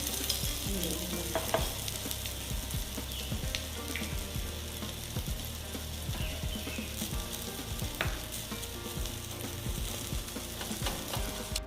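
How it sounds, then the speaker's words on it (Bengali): Oil sizzles and spits steadily in a pan as an egg fries, a continuous crackling fry with occasional sharper pops and scraping, no voices. "আবার একটু অল্প একটু তেল যাতে তলায় ডিমটা ভাজা হয়"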